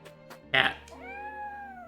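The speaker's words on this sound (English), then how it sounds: "Cat." A cat meows once in the Triangle Strategy video game, a drawn-out falling cry after a short burst of sound, with quiet background music throughout.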